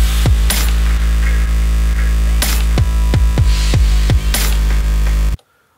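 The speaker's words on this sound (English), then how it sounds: "What we have here now is a very fat sounding drum track and a huge sounding bass track" A fat drum track and a huge bass track play together in a mix with heavy, booming low end, and punchy drum hits cut through a constant dense bass.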